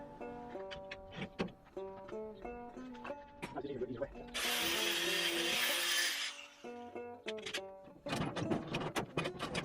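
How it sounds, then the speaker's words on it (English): An angle grinder cuts bolts off Mini Cooper parts in a single loud, continuous high-pitched burst of about two seconds, with intermittent clanks and tool noises before and after. "I'm just going to snip them off of there with a grinder"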